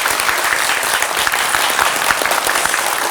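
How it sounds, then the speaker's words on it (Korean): A studio audience on a Korean KBS television show breaks into dense, steady applause, loud and continuous throughout with no talking. "우리 응원의 박수 보내드리죠"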